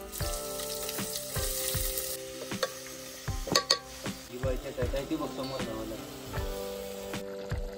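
A spice tempering sizzles in a pan over a camp stove during a trek and camping stay at Chavand fort, a continuous close hiss and crackle broken by repeated scraping and clinking of stirring.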